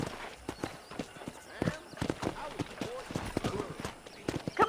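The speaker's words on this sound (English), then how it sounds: "let's see if you can still ride a horse." Horse hooves clip-clopping during a ride in the video game Red Dead Redemption, a brisk irregular patter of hoof strikes with an occasional snort, mixed with game sounds and some voices.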